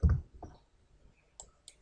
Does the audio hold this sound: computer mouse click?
yes